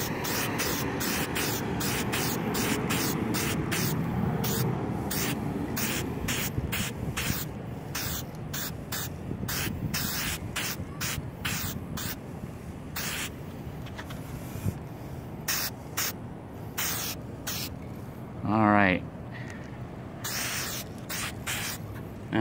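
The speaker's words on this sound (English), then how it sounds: "Spray this side." Aerosol spray paint hissing onto the body of a car in repeated short bursts with brief gaps between them, close and fairly loud over a steady background hum; a brief squeaky rising sound cuts in near the end.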